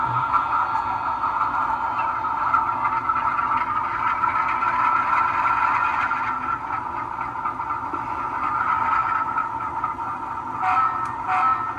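A LokSound V5 sound decoder in a model train locomotive plays a steady mechanical hum with a train-like engine drone, continuous at moderate volume, louder with the shell cover on, with a few small clicks near the end.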